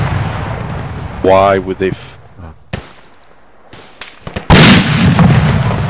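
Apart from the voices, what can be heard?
artillery rounds exploding, from a video game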